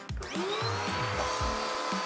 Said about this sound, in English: wipe down or vacuum out any large particles from the oven